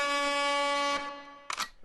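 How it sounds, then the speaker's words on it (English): A soundboard air horn effect blares one loud, sustained, brassy tone for about a second, then fades, followed by a short noisy burst. "We got the air horn."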